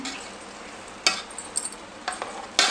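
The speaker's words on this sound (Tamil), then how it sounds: "இதை கிண்டிக்கலாம் லைட்டாக அப்படி திருப்பி விட்டுட்டு திரும்ப மூடி வச்சிடலாம்" Biryani rice being stirred in a cooking pot, with a few short scraping and rustling strokes over a steady low sizzle, close and fairly quiet.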